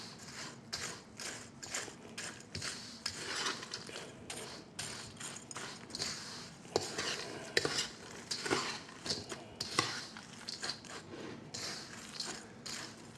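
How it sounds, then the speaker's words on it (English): Sauce stirred briskly in a cup, giving quick, rapid clicks and scrapes of a utensil against the sides. Soft and fairly quiet, steady throughout with no talking. "Stir in there good."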